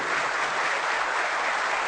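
A hall full of people applauds in a steady, dense roar of clapping that holds even and loud throughout, with no voices on top.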